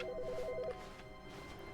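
Telephone ringing in the video game The Stanley Parable, a repeating electronic ring tone in quick pulses that stops partway, followed by quiet room tone.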